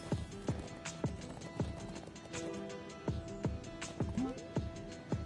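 Horse hooves clip-clop at a steady walking pace in the video game Nobody Saves the World, evenly spaced close footfalls over light game music.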